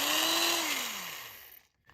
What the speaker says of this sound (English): we can use a vintage drill. This one here is the Black & Decker